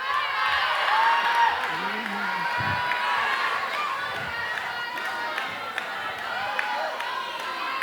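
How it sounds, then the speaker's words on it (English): A crowd of children at a junior high camp cheers and shouts continuously during a timed strength race, a dense, loud wall of voices with overlapping yells throughout. "You're either going to cheer for the boys or you're going to cheer for Maya."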